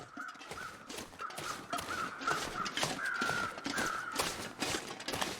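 Crows caw repeatedly in a ragged series in the video game The Long Dark, harsh calls overlapping one another against a faint background, fairly close and steady throughout.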